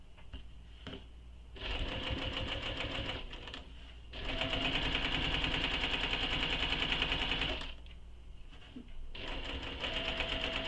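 A sewing machine stitches a shoulder bag in bursts of rapid, steady mechanical chatter, stopping and restarting several times with short pauses between runs.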